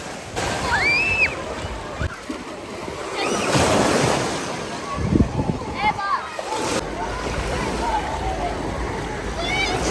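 Waves in a 40 by 40 metre wave pool at the Karpatia aquapark in Mukachevo surge and slosh continuously, with wind buffeting the microphone and distant voices and shrieks of swimmers mixed in.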